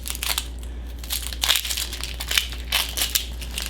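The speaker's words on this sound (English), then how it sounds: "As long as you got enough to actually peel the outer edge off." An onion having its papery outer layer peeled away by hand, close crinkly crackling and tearing in several short bursts.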